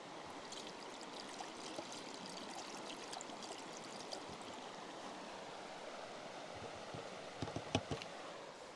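Antifreeze is poured from a bottle into a camper's drain during winterizing, making a faint, continuous trickling stream of liquid with a few soft knocks toward the end.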